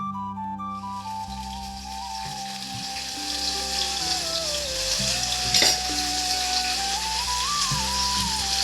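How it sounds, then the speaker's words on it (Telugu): Onions frying in oil with cumin and mustard seeds for a brinjal-tomato curry, a continuous close sizzle with crackling, under steady background hum and a faint tonal whine. "కొద్దిగా జీలకర్ర, కొద్దిగా ఆవాలనండి. తర్వాత ఉల్లిపాయలు ఉన్నాయి కదా, కొంచెం ఉల్లిపాయలు వేసుకుంటున్నాను."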